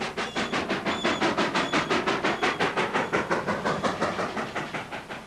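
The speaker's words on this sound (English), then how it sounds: "There you can watch the trains go by your bedroom window." A train rolls past a hotel window at a small desert stop on the Cape Town to Victoria Falls line, its wheels beating a steady, loud clickety-clack rhythm with a hissing rush that stays close throughout.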